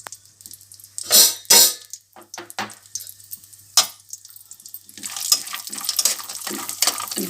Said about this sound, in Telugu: డ్రై ఫ్రూట్స్ వేసుకొని ఫ్రై చేసుకుందాం.